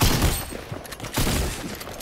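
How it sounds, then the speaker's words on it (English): Rapid bursts of gunfire from the Fortnite video game, including assault rifle fire, crackle loudly in quick volleys over about two seconds, with no talk over them. "Why is he shooting at me, bro?"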